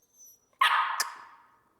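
A puppy gives a single loud, close bark on command, its sharp yelp trailing off over about a second, with a brief faint sound just before.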